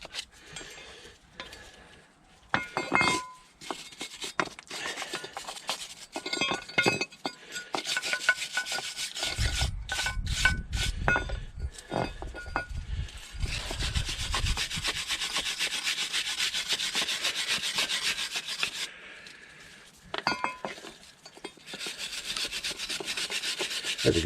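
Wire brush scrubbing corrosion and brake dust off BMW 1 Series front brake caliper parts: harsh scratchy rasping in bursts, with short strokes and pauses early on, then a long stretch of continuous scrubbing, close and fairly loud.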